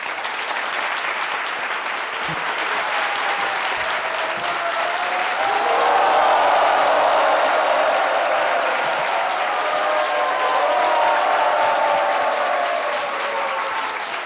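A studio audience at a French-language TV talk show applauds a guest's entrance, a loud sustained roar of many hands clapping that swells midway and keeps going for the whole stretch.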